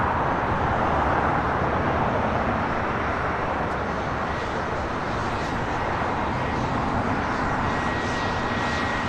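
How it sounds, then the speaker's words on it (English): A Challenger 350 business jet comes in to land at LAX, its engine noise a continuous broad rushing hum at moderate distance, even in level from start to finish, with no talking. "Challenger 350 coming in from San Diego Brownfield Municipal Airport"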